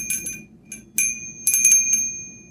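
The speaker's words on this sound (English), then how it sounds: "If you chose this Dancing Buddha bell" A Dancing Buddha bell rings several times in quick, irregular strikes, each bright metallic tone sustaining and overlapping the next, close and clear against a quiet background.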